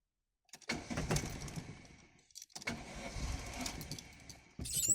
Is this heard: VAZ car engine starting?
yes